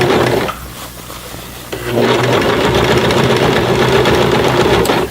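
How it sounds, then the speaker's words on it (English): A home sewing machine stitches across a thick jeans seam while hemming denim, its steady mechanical whir loud and close, pausing briefly before running on continuously. "when you're sewing these jeans on these home machines, don't go too fast"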